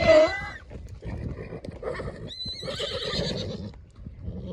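A stallion whinnies loudly at the start, then further shaky neighs and snorts follow over rustling farmyard noise.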